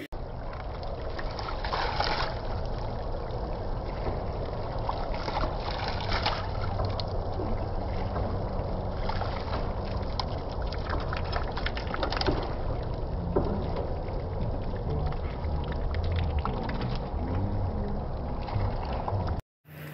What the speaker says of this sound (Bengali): লক্ষ্য করলেই বুঝতে পারবেন জলের কি সুন্দর আওয়াজ ছিল